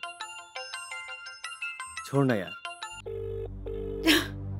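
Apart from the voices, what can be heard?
phone ringtone ringing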